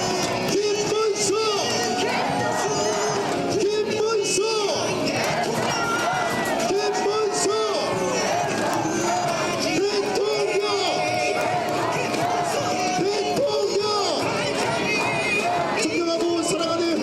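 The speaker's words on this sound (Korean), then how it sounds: "더욱더 큰 박수와 함성 부탁드립니다" Loud crowd cheering and whooping at Kim Moon-soo's presidential campaign rally in Hongseong, sustained and dense throughout, with bursts of shouting and an amplified voice over the crowd.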